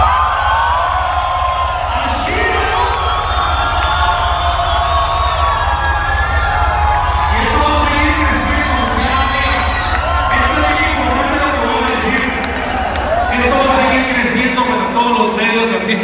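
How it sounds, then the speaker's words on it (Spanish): Crowd cheering and applauding at a Guatemalan event honoring Carl Nunes, with whoops and shouts over a steady loud background hum, voices calling out throughout. "Y un fuerte aplauso para Núñez"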